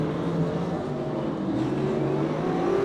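Race cars lap a speedway with engines droning and revving continuously, a steady, fairly distant motor roar with no distinct pass-bys standing out.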